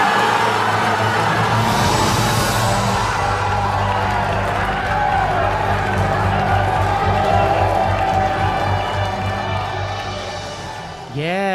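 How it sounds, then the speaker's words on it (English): A large crowd at the announcement of Qatar as 2022 FIFA World Cup host screams, boos and toots horns in a loud, dense, continuous roar that fades near the end. "more screaming and booing and tooting"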